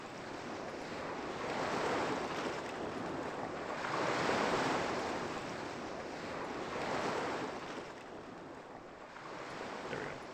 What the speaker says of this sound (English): I find it oddly calming. To lay back, close my eyes, and enjoy the crashing waves